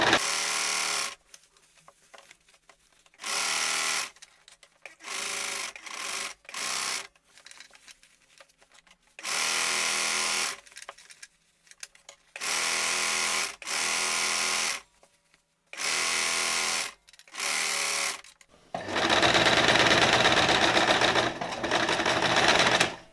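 A sewing machine stitches a dress seam in repeated bursts, loud whirring runs separated by short pauses for repositioning, ending with a longer steady run.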